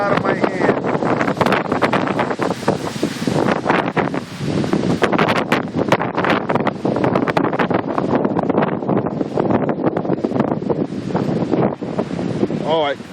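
Strong hurricane wind gusts roar continuously and loudly against a handheld phone microphone, buffeting and rumbling throughout with little letup.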